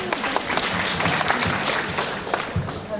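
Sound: audience applause

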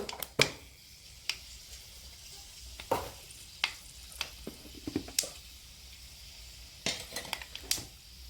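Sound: onions and fenugreek seeds frying in oil

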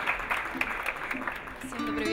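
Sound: audience applause for contestant at beauty pageant

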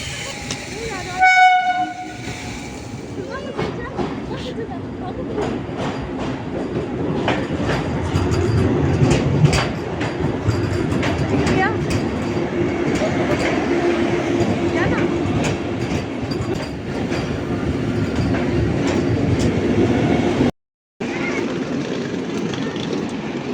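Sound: Vande Bharat Express train arriving at platform with horn

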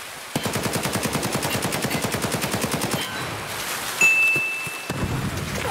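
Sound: gunfire in a video game

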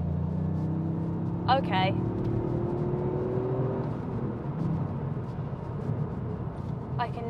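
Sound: Toyota GR Yaris hot hatch accelerating in sport mode

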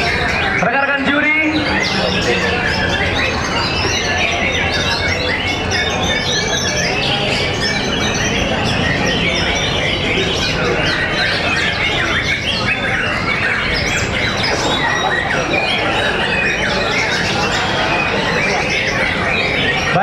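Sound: white-rumped shama (murai batu) songbirds singing at contest

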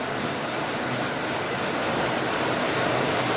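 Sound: rain falling outside in Kerala

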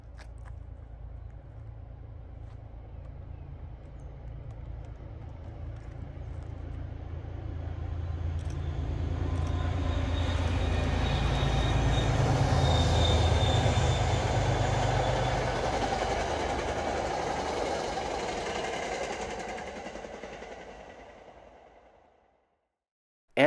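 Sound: MBTA commuter train 101 at Babson Reservoir, Gloucester

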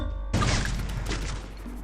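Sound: gunfire in the video game Free Fire

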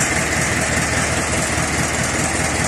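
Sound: Ursus C-360 tractor engine idling

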